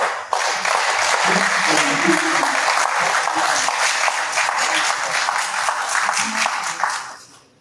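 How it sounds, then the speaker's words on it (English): Sustained applause from the audience at a university convocation press conference, dense clapping for several seconds with a few voices mixed in before it cuts off sharply at the end. "I think we should clap for them"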